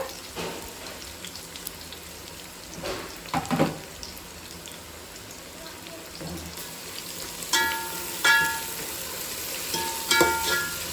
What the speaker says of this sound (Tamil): வெங்காயம் நல்லா வதங்கணும், பொன்னிறமாக வதங்கணும்.